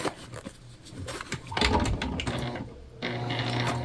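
Home sewing machine stitching past the turning hole of a small fabric pouch, a steady mechanical whir rising and pausing in short bursts with light handling clicks in between, close and moderately loud.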